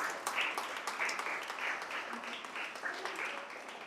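Audience applause for teachers at a school debate as their names are called; faint, steady clapping from a crowd that continues without a break.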